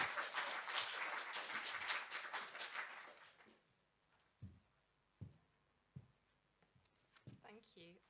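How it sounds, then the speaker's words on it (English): Warm applause from an audience at a poetry reading, a dense burst of clapping that fades after about three seconds, leaving scattered knocks and rustles. "Let's give her a big round of applause."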